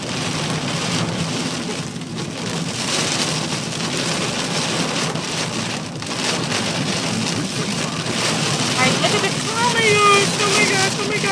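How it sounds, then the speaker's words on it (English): Heavy rain pours onto a car driving through a storm in northern Prince George, a steady loud hiss and patter that fills the cabin throughout, with a voice speaking over it near the end. "Look how the rain is coming down."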